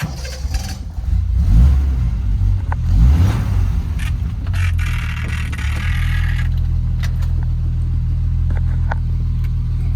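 A car with an overdrive fault on a test drive, its engine rumbling low and steady with a couple of revving surges and faint scraping noises, close and loud, with no talk.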